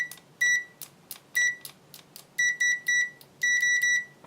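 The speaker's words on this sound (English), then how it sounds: "obligatory continuity buzzer test" A pocket multimeter's continuity buzzer, on an ANENG AN101, UT120C or VC921, beeps loudly and rapidly in short bursts of clear high tones with quiet gaps, and no one talks.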